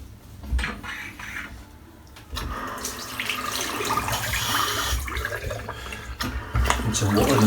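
A bathroom tap runs into a sink during a wet shave, water starting partway through and then flowing steadily and fairly loud, with low background rumble.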